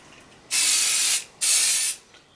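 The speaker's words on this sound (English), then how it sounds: "You add a bit of hairspray." Two loud, close bursts of hairspray from an aerosol can are applied to a styled ponytail, each hissing steadily for about two-thirds of a second with a short pause between them.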